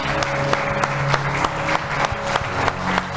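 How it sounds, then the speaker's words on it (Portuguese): A church congregation claps loudly in worship, dense steady applause with rhythmic sharp claps and a sustained tone underneath, close and full throughout. "Vamos aplaudir bem forte o nosso Deus."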